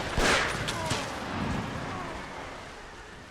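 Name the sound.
gunfire from enemy troops shooting back in video game Empire Total War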